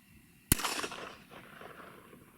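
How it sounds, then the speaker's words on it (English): A single sharp .22 pistol shot fired at a rabbit outdoors during a cold-weather hunt, one loud crack followed by a brief fading echo over a quiet background. "Shot it with a .22 pistol."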